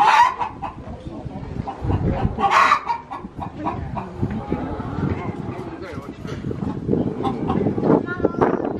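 Chickens at a farm centre in Nagoya, clucking in short bursts among a busy mix of voices and background noise, with people talking throughout.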